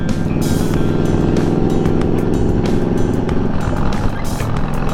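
A motorcycle cruising downhill on a cold mountain road at about 40 mph gives a steady, close engine drone with heavy wind roar throughout. No one speaks.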